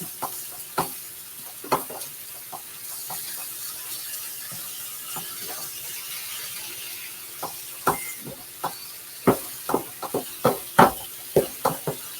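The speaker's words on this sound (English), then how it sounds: "Stir this up a little bit." A utensil scrapes and taps against a pan as meat with Italian seasoning is stirred, a quiet sizzle underneath and a quickening run of sharp clicks toward the end, with no talking.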